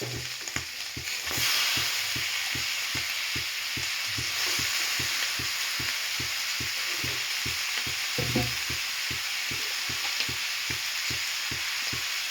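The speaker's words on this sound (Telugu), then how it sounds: "దాంట్లో ఇప్పుడు తరిగి పెట్టుకున్న వంకాయలను వేసుకోండి." Chopped eggplant frying in a pan for a prawn curry, a bright, continuous hiss of hot oil with a regular, rapid ticking of the spatula running steadily throughout.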